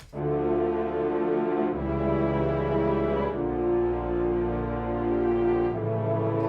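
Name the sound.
string section sample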